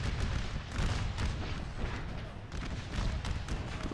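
Cannon fire booms from artillery in a Civil War battle in the ACW mod of Napoleon Total War, heavy overlapping blasts and rumbling in a dense, loud wash with no pauses.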